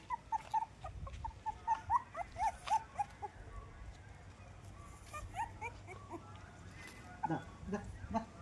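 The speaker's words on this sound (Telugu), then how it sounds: "పప్పీస్ చాలా క్యూట్గా ఉన్నాయి." Puppies offered for adoption whimper and yip in a quick run of high, thin cries close by, then quieter intermittent whines with soft movement underneath.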